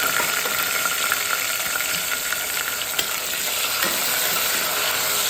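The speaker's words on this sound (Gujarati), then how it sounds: "લીમડો ઉમેરીશું ત્યારબાદ હિંગ અને પછી આપણે ટમેટા" Tomatoes going into hot oil tempered with cumin, curry leaves and asafoetida for a Kathiawadi stuffed bitter gourd curry, giving a loud, steady hiss of sizzling with light stirring scrapes throughout and no talking.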